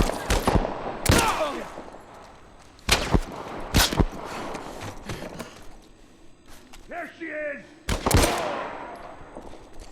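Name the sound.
gunfire in the video game The Last of Us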